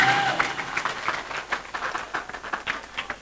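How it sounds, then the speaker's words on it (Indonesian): An audience applauds for Adlina after her nasyid at a village Maulid Nabi celebration, a brief burst of scattered hand claps at moderate distance that thins out toward the end. "Bapak Ibu boleh sekali lagi beri tepuk tangan yang meriah untuk Adlina."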